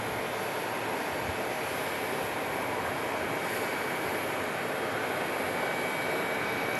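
A jet airliner arriving from Chicago at Phoenix Sky Harbor airport gives off a steady, broad, moderately loud engine roar that holds evenly throughout with no voices.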